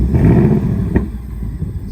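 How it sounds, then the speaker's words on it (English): A 2024 Ford Mustang GT's V8 engine revs briefly to about 2000 RPM after a remote lock command, a loud close rumble swelling then settling to a steady idle. "and then it revs it up to like 2K RPM."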